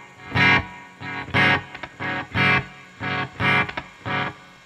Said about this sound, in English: So you can hear there, there's one repeat.